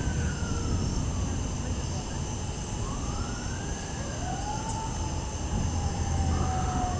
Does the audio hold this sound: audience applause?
no